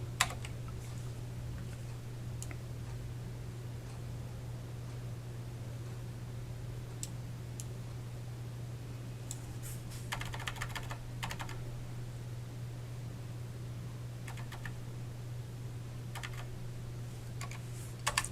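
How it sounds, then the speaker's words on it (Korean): Sparse, quiet tapping on a computer keyboard: isolated keystrokes scattered over a long stretch, with a denser flurry of keys partway through, all under a constant low electrical hum and no voices. "1급-5라고 입력하겠습니다."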